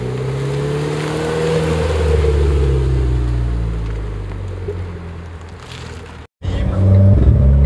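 Renault Clio 4 RS prepared for track use setting off on a road test, its engine droning and climbing through gears with rising and falling tones, loud and close, briefly cutting out before returning stronger.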